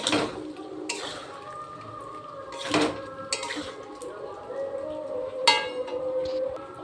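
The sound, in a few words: boiled potatoes being sautéed in a pan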